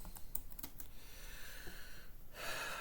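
Keys clatter on a computer keyboard as a command is typed for a Debian Linux GPS setup, a quick burst of close, crisp clicks at the start with quieter tapping after and a room hiss underneath.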